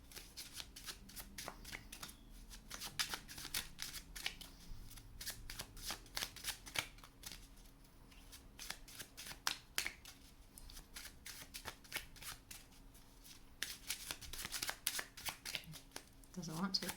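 Tarot cards shuffled by hand, a long run of quick crisp riffles and snaps at close range, with soft speech in the background.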